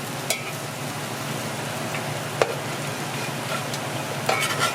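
Boiled green figs (bananas) fry and caramelize in a pan, making a low, even sizzle with a few sharp clicks from utensils against the pan.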